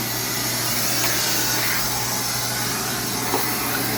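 A central vacuum system with a stretchable wall-mounted hose runs in a utility room, giving a steady, loud whooshing hum that holds unbroken from start to finish.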